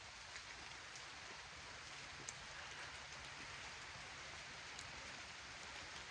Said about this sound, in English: Waiting for the rain to let up.